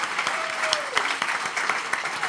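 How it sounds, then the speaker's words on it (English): A packed crowd at The Ark in Ann Arbor applauds at a celebration event, steady close clapping with sharp individual claps standing out, while a brief whistle-like tone slides downward early on. "How about a round of applause just for that?"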